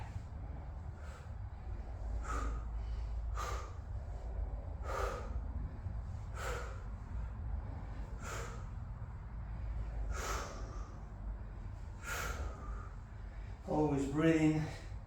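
During crisscross crunches in a garage workout, a person breathes heavily and forcefully, with sharp snorting exhales about once a second in a steady rhythm and a brief voiced grunt at the end.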